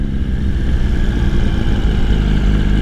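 A motorcycle engine runs loud and close while the clutch is worked, a steady throaty chug with a slight lift partway through and no speech over it.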